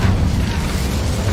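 An Incendio fire spell cast in Hogwarts Legacy on PS5 gives a steady, dense low rumbling whoosh that holds loud and near through the short burst, with no talk over it.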